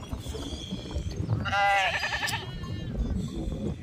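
Sheep from a flock travelling with a religious palanquin procession at Nagrewadi bleat. One loud, wavering bleat stands out in the middle, with fainter animal calls and crowd murmur around it.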